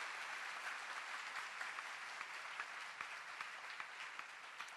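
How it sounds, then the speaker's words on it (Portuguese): A church congregation applauds during a Portuguese-language sermon, a continuous, fairly faint patter of many hands clapping that carries steadily throughout with individual claps popping out. "Palmas para Jesus, irmãos."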